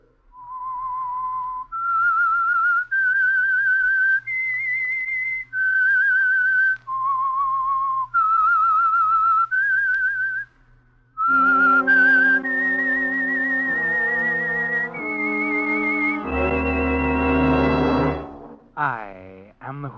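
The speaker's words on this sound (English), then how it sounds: "That whistle is your signal for the Signal Oil Program," A clear whistled tune of long sustained notes stepping up and down, the signal theme of the 1948 radio program The Whistler, then joined by a loud orchestral swell with a bright brassy finish.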